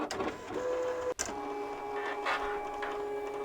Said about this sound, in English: I'm going to send that one more time for a second pass